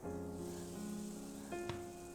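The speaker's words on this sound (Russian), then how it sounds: "Обжаривайте несколько минут, не закрывая крышкой, до золотистой корочки." Steady sizzling of onion-and-egg batter frying uncovered in a hot pan, a continuous crackle with a faint tonal hum beneath it and no voices.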